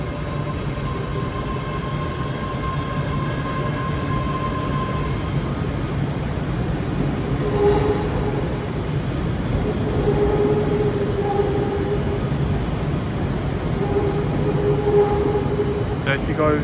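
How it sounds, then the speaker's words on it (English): ScotRail Express train departing Glasgow Central for Edinburgh Waverley, a steady low rumble and hum of the moving train with faint squeals and tonal whines, in a large station setting. "now departing is the 1531 ScotRail Express to Edinburgh Waverley"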